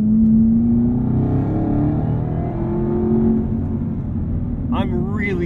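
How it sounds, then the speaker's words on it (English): Engine of a Chevrolet Camaro ZL1 1LE drones steadily under a voice from the cabin, the driver blipping the throttle, with a brief rising whine near the end. "Got the rev match feature turned off now so I can blip my own throttle."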